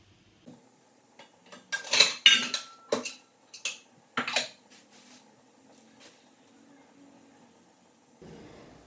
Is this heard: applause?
no